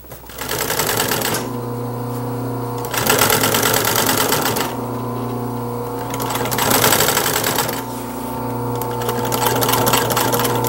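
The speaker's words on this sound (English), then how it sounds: "I've got a 23 gauge needle in the machine. It helps it from slipping stitches." Sewing machine fitted with a 23 gauge needle stitching upholstery fabric for fitness equipment, running in loud steady bursts of rapid rattling stitches separated by short pauses, close and clear.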